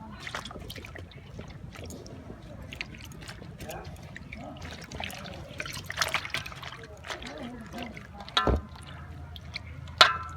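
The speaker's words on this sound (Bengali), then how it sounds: "এবার দেখুন আমি জলের মধ্যে ভালো করে ধুয়ে নেব" Cloth being washed by hand in a mug-filled basin of water, quiet sloshing and trickling with intermittent drips and a few sharper splashes near the end.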